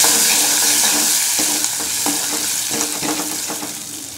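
Whole spices, cumin, cinnamon, cloves, bay leaf, curry leaves, dried red chilli and asafoetida frying in hot oil for a Gujarati thali, with a steady close sizzle and repeated scraping stirs of a spoon in the pan.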